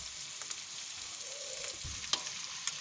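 Assorted meat sizzles and fries in a paella pan, a steady crackling hiss with occasional stirring scrapes and small pops.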